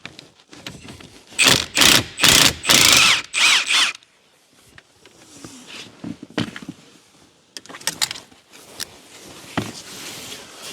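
Impact wrench removing a Loctite-secured steering wheel bolt on a 2025 Chevy Equinox EV; several loud close bursts of rapid hammering early, then quieter intermittent clicks and tool noises.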